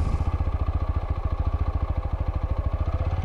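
A motorcycle engine runs as the clutch engages in first gear, a close, steady low thumping pulse of regular rapid beats, heard alone.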